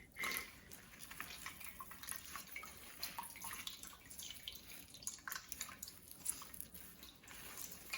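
Liquid drips and trickles faintly as the dregs of homebrewed Korean makgeolli rice wine are squeezed by hand. The wet sound is quiet and close, with soft squishing and no talk.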